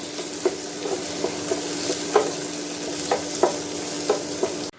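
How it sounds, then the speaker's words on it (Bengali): Spices for a bhetki fish dish sizzle steadily in a hot pan, with soft periodic scrapes of stirring every half second or so. "এটা আমি একটুখানি হালকা ভাজবো"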